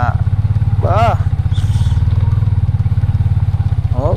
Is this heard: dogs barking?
no